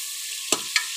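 Meat sizzles and hisses steadily as it fries in a hot pan, with two quick scraping stirs partway through.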